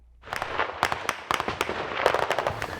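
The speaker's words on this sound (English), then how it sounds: "you can hear some of the explosions in the distance and not very far away from us" Irregular sharp blasts in a trench war in Donetsk, a rapid string of cracking bangs of varying strength, some near and some farther off, heard alone.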